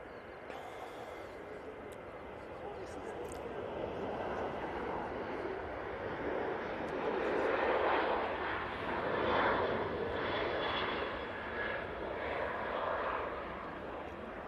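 Emirates airliner at Manchester Airport, a distant jet engine rumble that swells and fades in slow waves, moderately faint.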